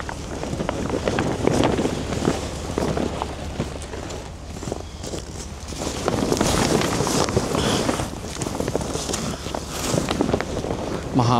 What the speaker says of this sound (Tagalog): Mahangin pa naman, huwag sanang liliparin.